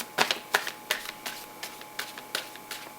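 Oracle cards are shuffled by hand for a card reading, a series of about ten crisp riffling snaps in an uneven rhythm, close and fairly quiet, with no talking.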